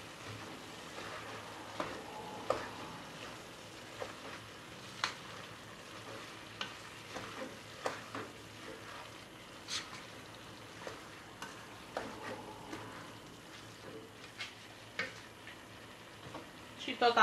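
Cabbage softening in a pan for a cabbage pie filling, with soft continuous sizzling broken by scattered clicks and scrapes of stirring, faint and close, with no talking.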